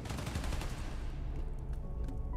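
Rapid bursts of gunfire ring out in a Spider-Man: Miles Morales video game, a dense fusillade of shots that is loudest at the start and thins out, moderately quiet with no voices.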